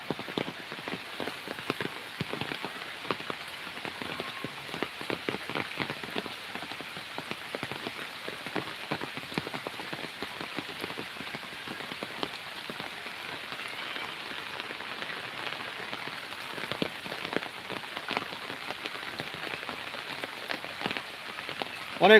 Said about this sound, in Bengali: দেখেন এত পরিমাণে বৃষ্টি হচ্ছে